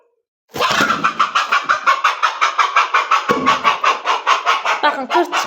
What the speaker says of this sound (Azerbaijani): Bu toyuq